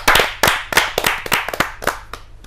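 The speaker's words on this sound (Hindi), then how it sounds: "आपकी जोरदार तालियां मिले" An audience at a Hindi poetry gathering claps sharply in a quick, irregular burst of about a dozen beats, close and loud, tapering off toward the end.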